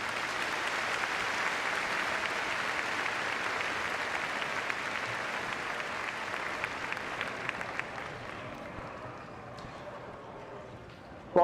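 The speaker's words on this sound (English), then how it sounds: "A nice round of applause there." Spectators at a police dog handling demonstration give a round of applause after the dog is called off, fairly quiet and distant, fading gradually over about ten seconds.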